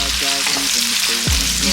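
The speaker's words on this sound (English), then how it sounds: "Those 2 big large onions that I've chopped. Fry it for about 3 to 5 minutes." Two large chopped onions fry in a pan for a Ghanaian red fish gravy, producing a close, steady loud sizzle with a soft scrape near the end.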